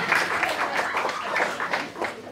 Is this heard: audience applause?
yes